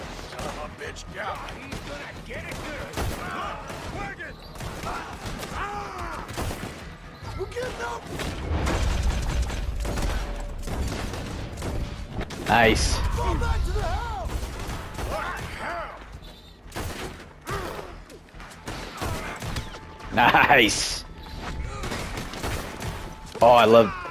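Gunfire in Red Dead Redemption 2 crackles in scattered shots and volleys, some near and some distant, with mechanical clicks of weapons, mixed under game sound and people talking.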